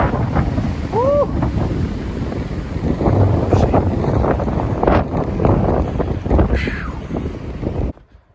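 Strong wind roars across the microphone on a snowy, closed mountain road after a snowstorm, a steady loud buffeting that lasts throughout and ends abruptly, with brief bits of voice in the mix.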